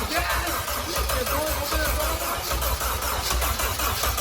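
An engine being started for the first time after a rebuild, running steadily throughout with a rough, low, continuous rumble close to the microphone.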